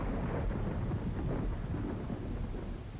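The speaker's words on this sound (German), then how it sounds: "Okay, danke für das Gewitter." Rolling thunder from a thunderstorm in Minecraft, a loud sustained rumble with steady rain hiss throughout, no voices.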